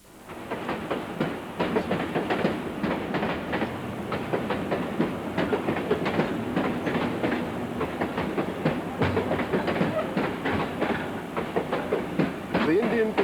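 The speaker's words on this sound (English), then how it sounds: "The Indian Pacific departs Sydney Terminal, number 1 platform, Perth bound." The Indian Pacific passenger train pulls out of Sydney Terminal on its Perth-bound run, wheels clicking over rail joints in a steady rhythm under a continuous rumble and hiss of rolling stock.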